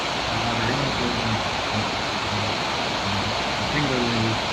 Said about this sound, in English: the sound of water in the building